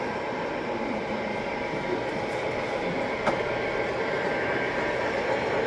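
Continuous rumbling of a model train rolling past on a layout at steady volume, with faint clicks of wheels over the track.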